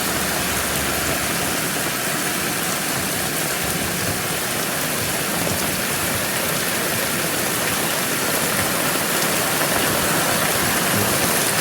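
Heavy monsoon rain pours off an awning in a dense, steady roar that stays loud and unbroken throughout, getting slightly stronger toward the end, with no voices.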